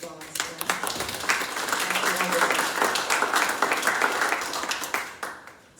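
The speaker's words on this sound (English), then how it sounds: "Let's give them a round of applause." An audience at a township property tax workshop claps for veterans in the room, a dense round of applause that swells quickly and holds steady for several seconds before tapering off, with some talk mixed in.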